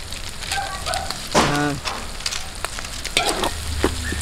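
Lechon sisig sizzling hard while frying over an outdoor fire, a steady crackling hiss with spoon-stirring clatter, and a brief voice cutting in near the middle.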